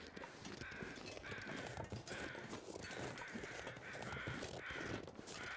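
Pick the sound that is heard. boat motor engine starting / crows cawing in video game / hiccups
crows cawing in video game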